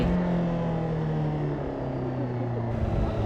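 A Honda CBR600RR sport bike on a race track sweeps through a corner, its engine a loud, continuous high-revving drone with strong wind rush, pitch sagging slightly mid-turn before holding steady.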